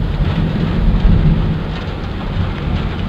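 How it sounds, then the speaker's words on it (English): Hail pelts down steadily during a thunderstorm, a dense, loud, continuous patter with a low rumbling undertone and no voices. "And the hail's coming down."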